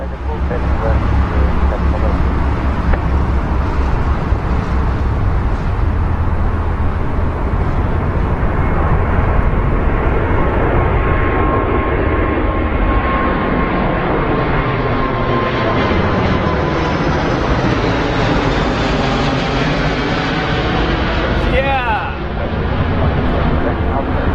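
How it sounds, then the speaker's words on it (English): The largest commercial passenger airliner makes a low departure from London Heathrow, a long, loud, continuous engine roar that shifts in pitch as it climbs past nearby. "largest commercial passenger airliner, and she makes a racket and she's late"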